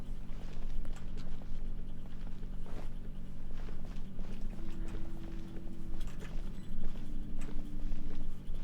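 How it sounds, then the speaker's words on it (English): Footsteps of a character walking in the video game Genshin Impact, a steady, fairly close rhythmic patter of steps over a continuous low musical and ambient bed, with no talking. "Why is that footstep sound so nice?"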